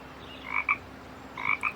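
Frogs croak in an audiobook telling of The Ugly Duckling, two short clusters of bright, bubbly croaks about a second apart, clear and close over a faint background.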